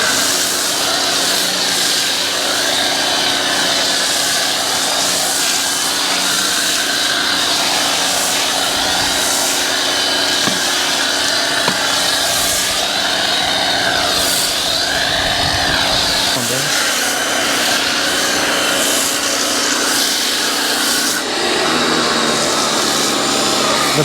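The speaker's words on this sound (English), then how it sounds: "The pressure washer, bro, it sucks." Pressure washer running steadily through an exterior detail on a Supra MK5 sports car, a loud continuous motorized whine and rush with brief shifts in pitch and a change in tone near the end.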